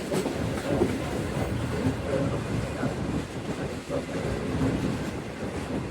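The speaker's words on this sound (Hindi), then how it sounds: "ट्रेन हमारी नवाब से रेलवे स्टेशन अप्रोच बना रही है" A Shalimar Express air-conditioned passenger train approaches Nawabshah railway station at night, heard from inside as a continuous loud rumble with faint rhythmic wheel clatter and no clear pauses.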